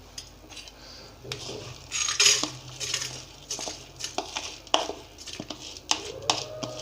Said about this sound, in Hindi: तो चलिए इस कुकर में डाल देंगे इससे चावल को